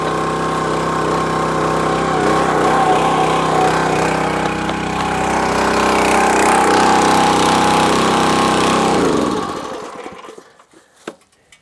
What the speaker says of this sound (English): The Champion 27-ton log splitter.